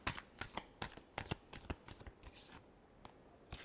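Tarot deck being shuffled by hand, a close run of quick crisp riffling flicks in irregular bursts, fading toward the end before one last snap.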